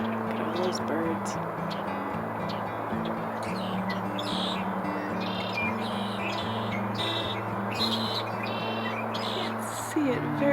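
A flock of birds tweets busily outside in snowy winter dusk, with clear, repeated chirps layered over a constant low mechanical hum.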